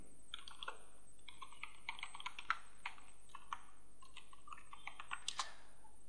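Someone types a folder name on a computer keyboard, with a quiet, irregular run of light key clicks spread over several seconds and a brief burst of faster taps near the end.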